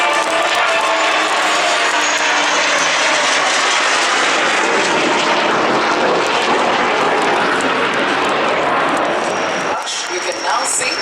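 Loud engine noise from Indian Army Advanced Light Helicopters Mark IV roars steadily overhead at Aero India 2023, swelling and fading as they pass, with a voice speaking over it.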